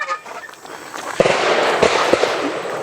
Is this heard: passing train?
no